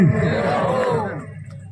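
A crowd at a Teja ji Maharaj singing and honour event at a Jat student hostel in Sujangarh shouts back in unison to a devotional chant, a loud, dense burst of voices that fades after about a second.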